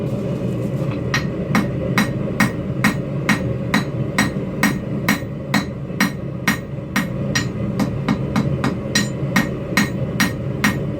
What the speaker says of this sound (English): So I'm just working on forging this thing into a nice thin rectangular piece of copper here.